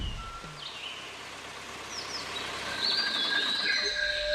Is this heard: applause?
no